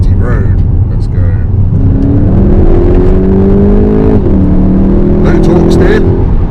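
A 2021 VW Golf GTI Mk8 hot hatch with 245 hp accelerates in sport mode on a twisty road, its piped-in engine note rising loudly in pitch through the gears, with a voice talking over it.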